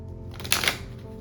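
A quick riffle of playing cards being shuffled, one short burst of crisp fluttering snaps, close and fairly quiet.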